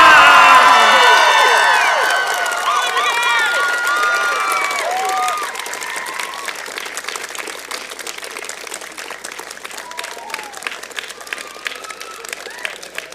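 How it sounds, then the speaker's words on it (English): Convocation audience at a graduation ceremony erupts in loud applause, shouting and cheering, a dense roar that starts strong and gradually thins to scattered clapping and occasional whoops over about thirteen seconds. "Let's have a round of applause, lots of shouting and yelling to thank your support networks who are here today."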